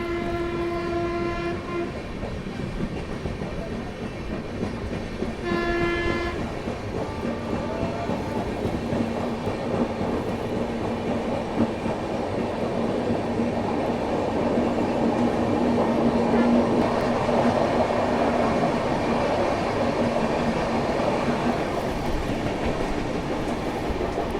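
The Swaraj Express runs along the track with a constant, fairly loud rumble and clatter of wheels, and two horn blasts sound near the start.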